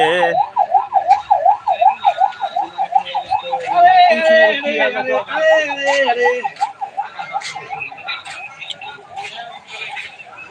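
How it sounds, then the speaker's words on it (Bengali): An ambulance siren wails as it passes, rising and falling in steady repeated sweeps, fairly loud and close, with other traffic-like tones layered over it midway. "কার বাড়ি কি দুর্ঘটনায় অ্যাম্বুলেন্স যাইতেছে"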